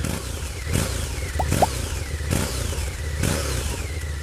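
A Harley-Davidson V-Rod engine revs repeatedly through gutted slip-on exhausts, raspy and open. Several throttle blips rise and fall close by.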